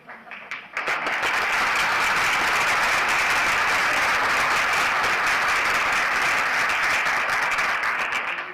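Audience applause at a talk about Cuba: a sudden burst of many hands clapping that swells within a second and holds as a loud, dense, sustained ovation for several seconds before easing slightly at the end.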